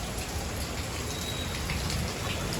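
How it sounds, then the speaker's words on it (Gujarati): Rain falls steadily in Surat, an even, quiet wash of drops hitting surfaces nearby, continuous with no voices over it. "મસ્તીનો વરસાદ અત્યારે ચારનો શરૂ થઈ ગયો"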